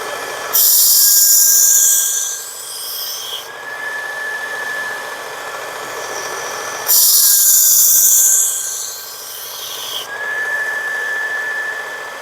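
A Work Sharp belt sharpener grinds a skinner knife in two loud, hissing passes, with the motor's steady high whine carrying on between them.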